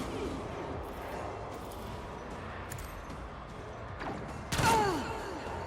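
A single sharp sniper shot rings out in Warhammer 40k Rogue Trader, a loud crack with a ringing tail late in the moment after a stretch of low ambient game rumble.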